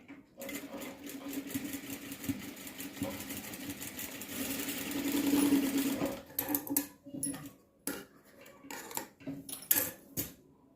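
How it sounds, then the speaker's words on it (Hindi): A sewing machine stitches lace along the hem edges of an Afghani salwar, running in a steady close whir, then breaking into short start-stop bursts with small clicks and handling noises. "तो यहाँ पे हम दोनों साइड में किनारी पे भी सिलाई लगा लेंगे।"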